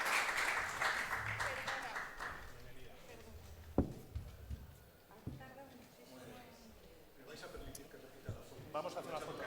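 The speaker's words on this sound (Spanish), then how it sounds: "vamos a dar un aplauso" Applause for a cattle breeder at a public gathering during festival colloquia, a crowd clapping at first and tapering off into scattered claps and knocks, with people talking throughout.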